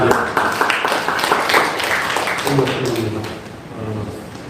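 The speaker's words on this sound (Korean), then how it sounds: "박수로 모시겠습니다" An audience at an academic conference claps to welcome a speaker, a dense spatter of hand claps for about two and a half seconds before a voice begins talking.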